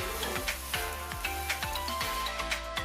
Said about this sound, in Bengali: এবার কেটে রাখা কচু আর আলুটা দিয়ে দিচ্ছি, দিয়ে ভালো করে নাড়াচাড়া করে কষে নেব বা ভেজে নেব।